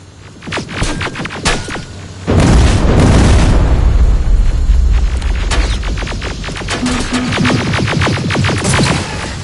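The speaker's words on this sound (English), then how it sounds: "Something's not right! Rockets!" A heavy rocket explosion in Terminator Resistance erupts into a loud, sustained booming roar, preceded and followed by rapid gunfire crackle in a chaotic battle.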